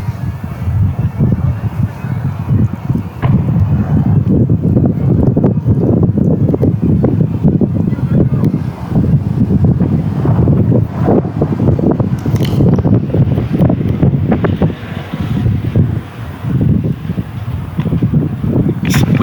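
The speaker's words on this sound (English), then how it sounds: "The wind is now blowing towards me" Wind buffeting the microphone at a cricket ground, a continuous loud rumbling roar with gusty fluctuations and no pause.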